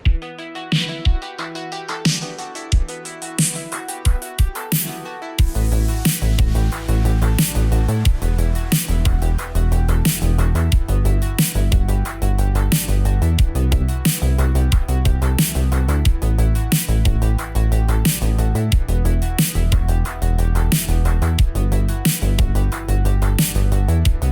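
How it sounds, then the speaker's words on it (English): A flap disc on an angle grinder works over the engine bay of a Datsun 280ZX, a loud, dense, continuous abrasive whine. It starts after a few seconds of sparse knocks and runs steadily almost without pause. "first things first, flappy disc this down and we'll see where we get to"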